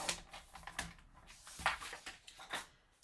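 Paper is trimmed for a mini album with a series of soft, crisp clicks and slicing strokes, likely from a paper trimmer, heard up close at a quiet, uneven pace.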